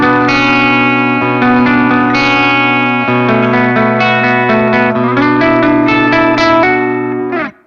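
Electric guitar played through a Friedman JJ Jr amp with a saturated, distorted tone: sustained ringing chords and single notes with effects and reverb, loud and close, fading at the end.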